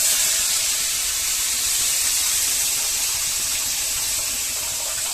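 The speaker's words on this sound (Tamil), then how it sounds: "புளி தண்ணி ஊற்றிக்கலாமா?" Tamarind water poured into a frying fish curry masala makes a steady, loud hiss of steam and spray that runs unbroken for the whole stretch, with no voices over it.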